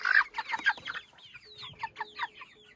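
Laying hens cluck in a short, busy series of bright, close clucks and squawks, several birds overlapping in an uneven rhythm with brief quieter gaps, no voices.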